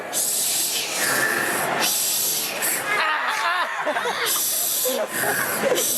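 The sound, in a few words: audience imitating a ship's sound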